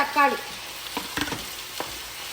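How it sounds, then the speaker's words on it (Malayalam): Curry leaves stirred as they fry in a pan for a Kerala-style porotta and beef dish, with a few scraping stirs and soft sizzle at close range, no talking. "നല്ലപോലെ ഇളക്കാം"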